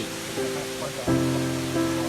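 The seventh and final tier of Erawan waterfall gives off a steady, close wash of rushing water, with a continuous broadband roar that swells slightly partway through and carries no speech.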